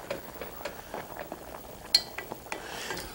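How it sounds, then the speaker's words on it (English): Soft scraping and light taps of a utensil stirring rice in a pan, irregular and fairly quiet, with a faint sizzle underneath. "Give it one more stir."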